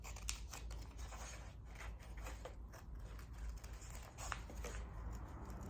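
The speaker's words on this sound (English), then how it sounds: "Okay, so I've just cut a little bit off" Scissors snipping a decor transfer sheet close to its printed image, a steady run of small rustling cuts and paper rubbing, close and fairly quiet, with no talking.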